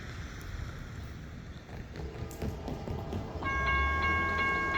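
Norfolk Southern freight train 289 rolls westbound through Greenville, Tennessee on the A line, a loud rumbling pass that builds as the horn blares in a sustained chord near the end.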